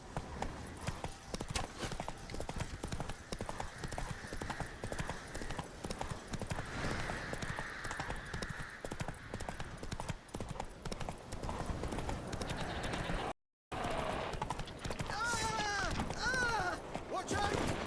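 Roach the horse's hooves clip-clopping in The Witcher 3, a steady rhythmic trot running under game music and ambience, with voices speaking and a brief dropout near the end.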